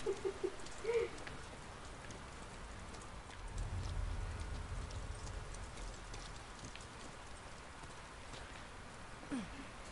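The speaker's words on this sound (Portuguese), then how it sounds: "Ficou bem legal o efeito da chuva no jogo." Rain falls steadily throughout in The Last of Us Part II, a soft wash of drops with a few brief thuds and clicks near the start, and no one speaking.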